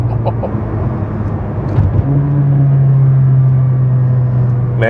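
A Mercedes-AMG GLA 45's turbocharged four-cylinder, in sport manual mode on a track straight, pulls hard with a loud, steady droning engine note that rises and holds as it accelerates.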